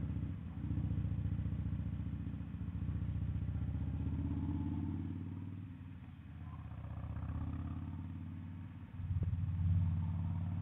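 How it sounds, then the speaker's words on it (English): A 2004 Harley-Davidson Softail Deuce engine rumbles steadily through a loud, throaty Screaming Eagle exhaust, pulsing as it rolls along and swelling louder near the end. "And the exhaust is really loud, but it's a Screaming Eagle exhaust"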